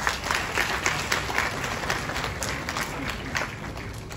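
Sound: audience applause for guests at a voter awareness session

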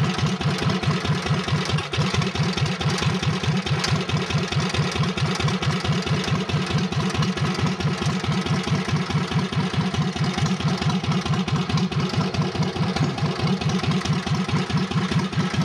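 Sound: Cub Cadet 1650 hydrostatic tractor running with added cooling fan

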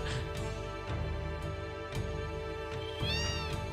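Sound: cats meowing in a video game

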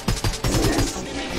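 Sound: gunfire in a Minecraft video game

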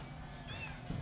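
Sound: cat meowing

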